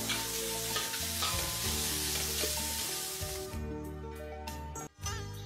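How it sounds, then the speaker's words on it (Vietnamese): Frog meat stir-fried with lemongrass and chili in a pot, Mekong Delta style, sizzling loudly and steadily with stirring scrapes throughout, then easing off near the end with a brief clatter. "Bắt nồi lên bếp, xào sả ớt cho thơm, dậy mùi, rồi cho mớ thịt nhái vô xào chung."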